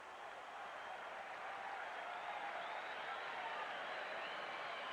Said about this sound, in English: And a nice round of applause, as you might expect, for Darren Lewis.